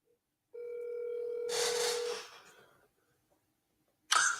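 An electronic telephone tone for a live call-in on a morning sports talk show holds steady for about a second and a half. A rush of noise follows, then a short, loud burst near the end, with no talking.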